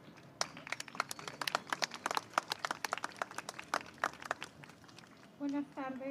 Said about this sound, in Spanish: La recibimos igualmente con un fuerte aplauso.